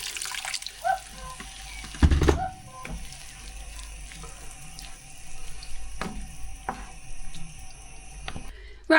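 Water runs from a kitchen tap while an Indian curry is cooked, splashing into a pan with a burst near the start, then steadier trickling, dripping and clinks throughout.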